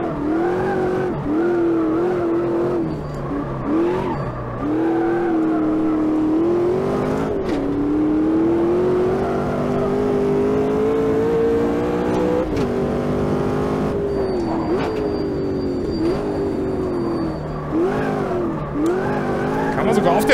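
Ultima race car with a 7-litre V8 in the racing game Automobilista 2, engine droning and revving loudly through repeated gear changes with harmonic pitch climbing and dropping, with a voice talking throughout.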